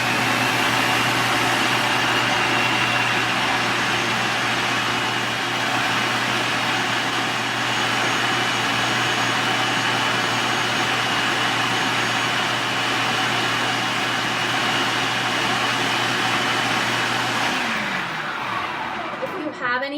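A kitchen blender runs continuously on beans, a loud, steady motor whir close to the mic that winds down near the end, with no talk over it.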